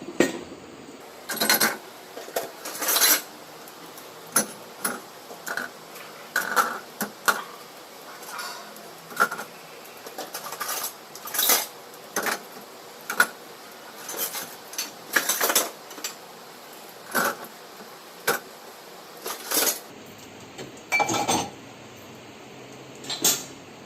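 Scattered clinks and knocks of cups, including glass ones, being set into the top rack of a Bosch dishwasher, irregular taps spread out over a quiet background.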